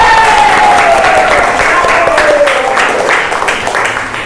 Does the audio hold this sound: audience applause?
yes